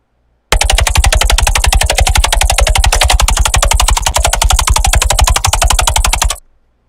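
A Serum synthesizer patch plays a fast, loud, steady stream of sharp percussive pulses in rapid rhythm for about six seconds, then cuts off abruptly.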